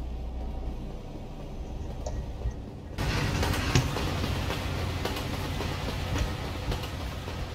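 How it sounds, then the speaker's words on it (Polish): A train passes by in the Euro Truck Simulator 2 game world, a steady rumbling rolling noise that thickens and grows louder partway through, with faint rhythmic clacks over a continuous engine-like hum. "Pociąg jedzie."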